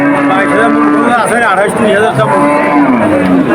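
A cow at a busy rural cattle market lets out a loud, close, drawn-out moo with wavering pitch, while people talk around it.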